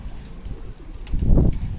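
Pigeons being fed grain coo softly outdoors, a low rounded coo rising near the end over faint wind and background rustle.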